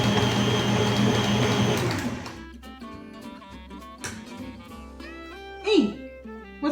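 Electric stand mixer beating cookie dough, loud motor whir for the first two seconds that then cuts out, followed by a quieter tonal hum and brief clatter with a voice speaking.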